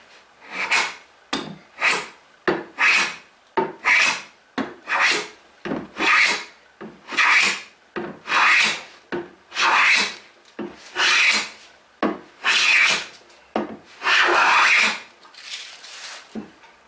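A hand plane is pushed along a tapered wooden leg, taking shavings in about a dozen close, evenly paced strokes. Each stroke is a loud, breathy rasp with no talk.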